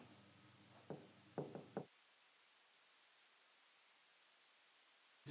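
Chalk or marker writing on a lecture board makes a few brief, close scratchy strokes in quick succession, then stops into near silence before one last faint tap, with no talking.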